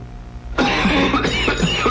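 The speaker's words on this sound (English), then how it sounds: "with this nasty cough plus congestion" A man coughs several times in quick succession, a congested, chesty cough heard close and clear over a faint background hum.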